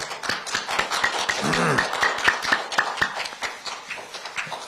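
Audience applause for actress Kim Boo-sun at a press conference, a dense stretch of clapping with sharp individual claps standing out, a short murmur of voices partway through.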